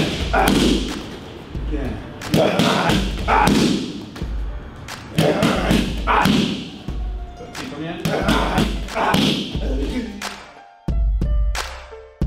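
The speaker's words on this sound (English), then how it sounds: "We'll go one, two, hook, kick, our basic combo." Muay Thai strikes land on handheld Thai pads in a steady series of heavy, punchy thuds and slaps in repeated combinations of punches, a hook and a kick, loud and close.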